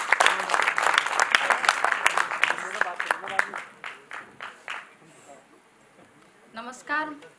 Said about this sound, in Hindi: सुनीता सहरा जी जो अलवर से चल कर आई हैं, उनके लिए एक बार जोरदार तालियों से स्वागत करें